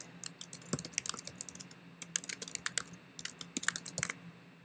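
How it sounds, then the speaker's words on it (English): Crisp clicks of typing on a computer keyboard, close and distinct, coming in quick uneven bursts with short pauses between words. "So let me type in History of Duke."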